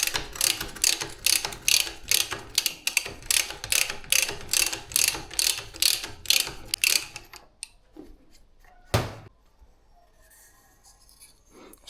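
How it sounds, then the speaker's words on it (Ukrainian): A socket wrench ratchets rapidly while a 24 mm socket unscrews the top cap of a 2008 Rock Shox Reba Race suspension fork, a steady run of close clicks for about seven seconds, then quiet with one sharp knock. "Тепер відкручуємо топкеп. Головка тут на 24."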